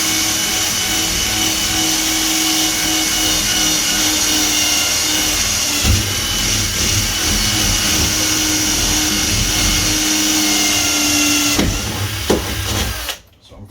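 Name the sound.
power drill boring through a door for a handle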